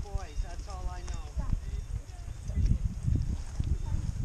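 Horse hooves clip-clop on the ground during a jumping outing, steady and fairly close, while a person talks over the first part.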